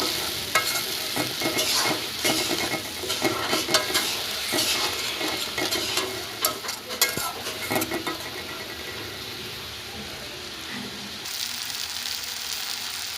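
Ground turmeric, chilli powder and salt frying in a pan for a pangas fish curry, a loud continuous sizzle with busy scraping and stirring, quieter toward the end.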